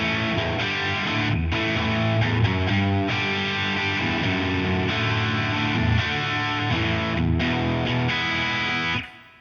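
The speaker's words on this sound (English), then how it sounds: "It's a boost before your preamp, so it's going to add distortion." Distorted electric guitar through an OPFXS Twin Boost pedal placed before the preamp plays a sustained, crunchy riff with thick overdriven chords, loud and continuous, ending with a short fade.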